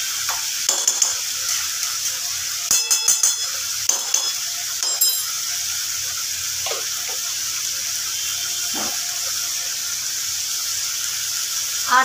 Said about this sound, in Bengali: এই ঘিটা আমি এতে দিয়ে দেব।